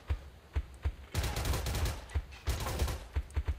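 Video-game gunfire rattles in repeated sharp bursts and single shots, a fast irregular volley of close, punchy reports with brief gaps between them.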